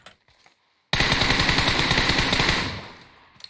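Gunfire in PUBG Mobile: after a near-silent moment, one loud sustained burst of automatic fire rattles for about two seconds, then fades away.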